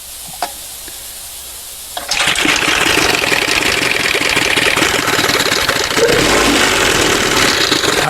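Johnson 1971 20 HP outboard engine starts after a quiet moment and runs with a busy, rapid mechanical chatter, loud and close, with a slight surge near the end, no talking.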